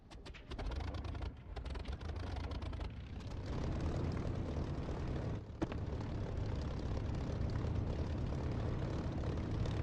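Spitfire piston engine starting up in the DCS flight simulator, a loud continuous propeller drone that catches and builds after the first second, then holds steady with a brief dip midway.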